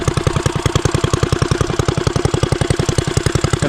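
A custom Motovox mini bike's small engine runs steadily nearby, its fast, even putter pulsing with a rattly, clattering edge throughout, with no voices over it.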